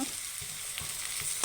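Onion, garlic and ginger frying in a pan with tomato added give a steady soft sizzle with faint stirring scrapes, quiet and close, with no voices.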